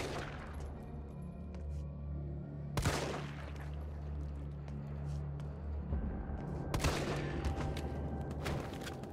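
Gunfire in Resident Evil 3, a survival horror game, with two sharp, loud shots several seconds apart over a steady low droning ambience and scattered distant crackles.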